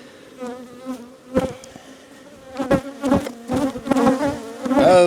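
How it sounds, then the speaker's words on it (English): Honey bees buzz around an open hive during a queen check, a close, wavering drone with individual bees zipping loudly past the microphone in repeated bursts. "The bees just attacked that camera."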